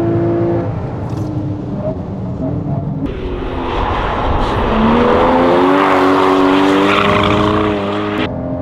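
A Porsche Cayman GTS engine revs and accelerates on a race circuit, the loud pitch climbing and falling through gear changes, then rising steadily toward the end, with no talk.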